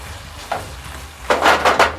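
Ground meat for loaded nachos stirred in a hot pan, a faint sizzle underneath with a soft scrape near the start and three louder stirring scrapes close together toward the end.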